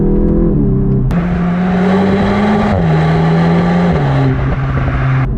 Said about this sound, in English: The titanium Akrapovic exhaust does have a few pops and bangs out the back